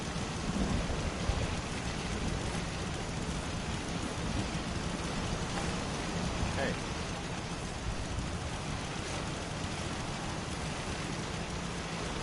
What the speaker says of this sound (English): Hope this rain lets us in.